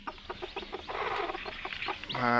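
A desi black hen clucks in a rapid run of short calls near a coop where chicks are hatching, rising into a louder drawn-out squawk at the end.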